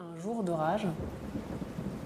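A thunderstorm with rain, a brief rising and falling tonal swoop followed by low rumbling thunder and a steady hiss of falling rain.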